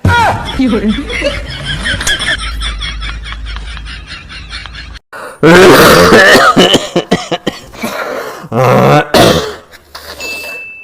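A man with a cold speaks, then coughs loudly and harshly in short bursts, close to the microphone, with brief pauses between fits.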